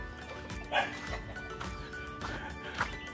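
Dog barking outdoors at a rural neighbor's place in Jimalalud, Negros Oriental, Philippines: a few short, sharp barks and yips spaced apart, with background noise in between.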